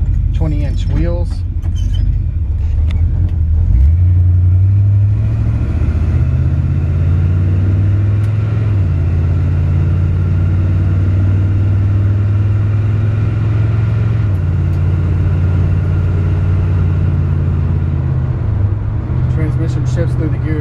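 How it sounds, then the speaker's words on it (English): 1972 Chevy C-10 pickup with a 454 big-block V8 and automatic transmission driving, its exhaust giving a deep, loud rumble that rises and falls through smooth gear shifts, with someone talking over it at times. "It's got a nice sounding exhaust"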